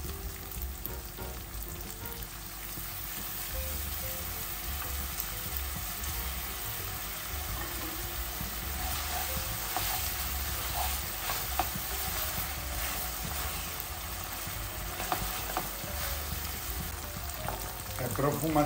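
Spaghetti cooks in a sticking spicy tomato sauce in a pan, with a ladle of broth added. It makes a continuous loud bubbling sizzle with stirring scrapes, and there is no talk.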